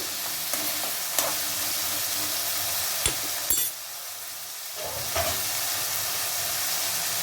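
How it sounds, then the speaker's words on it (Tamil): Ivy gourd and green chillies frying in oil for a Kerala-style dish, a steady close sizzle with a few sharp crackles and a brief clatter of stirring, dropping quieter midway before rising again. "கோவக்காய் இந்த பச்சை மிளகாய் இந்த எண்ணெயிலே தான் நல்லா வெந்து வரணும்"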